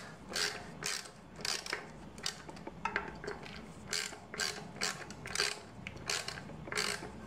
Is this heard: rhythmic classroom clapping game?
no